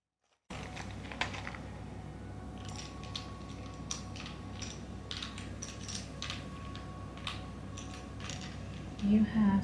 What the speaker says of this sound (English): So I will shuffle the letters, pile 1.